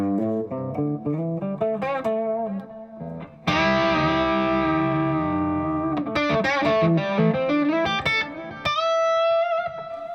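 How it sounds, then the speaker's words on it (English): A distorted electric guitar plays through a stereo delay, so its chords and single notes repeat and spread left and right, loud and close with a long ringing sustain. "So what that's enabling me to do is create a stereo image, even though it's just the delays going left and right."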